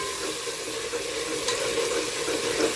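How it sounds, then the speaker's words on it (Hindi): A pulp fries in a pot while mutton pulao is being cooked, giving a steady, hissing sizzle that sits close and fairly loud and runs without a break, with no voices. "सारा पल्प हम डाल देंगे इसमें और इसको भून लेंगे"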